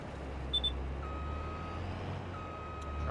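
Truck reversing beeps from the video game Farming Simulator 22, two long steady tones repeating at an even pace over a low engine rumble, with a brief higher chirp early on.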